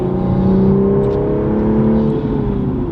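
A manual Toyota Supra fitted with a high flow catted downpipe accelerating hard, its engine and exhaust note climbing in a loud, rising drone heard from inside the car, then shifting pitch near the end.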